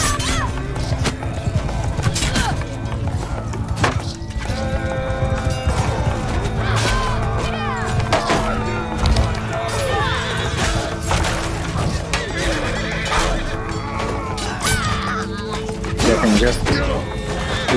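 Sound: horse galloping and neighing in a video game

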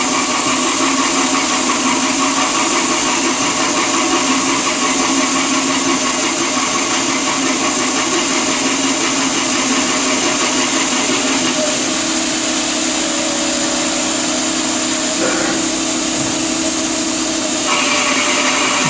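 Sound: mill-turn machine cutting an inner bearing adapter

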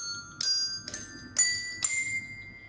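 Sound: colored bells ringing

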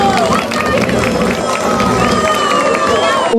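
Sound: audience applause and cheering

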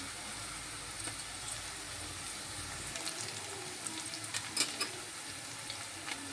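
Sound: frying in a pan for egg curry

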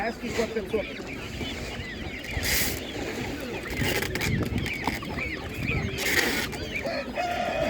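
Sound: broiler chickens at an animal market

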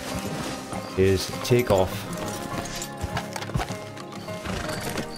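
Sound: horse hooves and whinnying in the video game Red Dead Redemption 2

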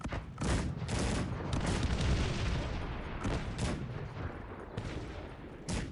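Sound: cannon volley in a video game

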